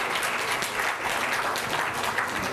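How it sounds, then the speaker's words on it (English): Audience clapping for a quiz team at a competition event, a dense, steady burst of applause from a room of people lasting a couple of seconds. "Can we have a round of applause for this team?"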